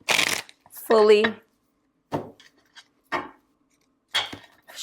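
A non-glazed tarot deck is shuffled by hand in short separate bursts of card riffling and slapping, with a voice speaking briefly between them.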